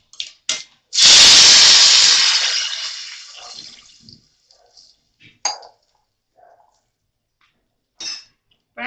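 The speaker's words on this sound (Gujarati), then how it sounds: "તરત જ આપણે એમાં પાણી નાખીશું." A sudden loud sizzling hiss as water is poured into a hot pan of tempered mustard seeds and red chillies for wheat flour khichu, fading over about three seconds, followed by a few light clinks.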